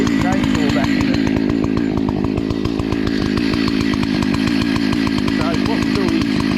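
A chainsaw cuts into a standing tree during tree felling, its engine snarling loud and close with a fast, steady rattling pulse that holds throughout.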